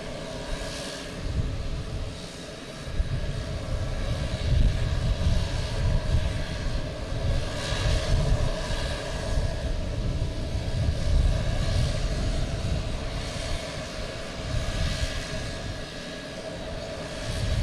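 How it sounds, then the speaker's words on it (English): A JetBlue Airbus A220 takes off at Boston Logan Airport, its engines producing a sustained, loud roar that swells and eases over time, heard from a spotting spot with no talking. "Looking at boats and the plane taking off."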